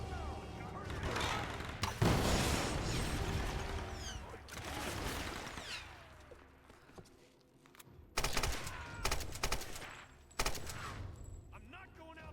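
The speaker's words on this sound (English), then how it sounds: "Shoot the barrel!" Gunfire during a fight in Tomb Raider (2013), loud bursts and booming shots mixed with game noise and voices, with a sharp blast near the end as a barrel is shot.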